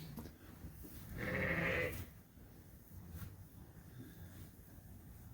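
Ewes bleat in a barn during lambing season. One clear, drawn-out bleat comes from a short distance, followed by quiet barn ambience with faint rustling.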